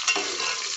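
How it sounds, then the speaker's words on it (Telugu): Masala mixed for Srikakulam-style fish pulusu: a short, close, continuous stirring and scraping with a faint sizzly texture, heard alone without any voices. "మా అత్తయ్య గారు మళ్ళీ కలుపుతున్నారు"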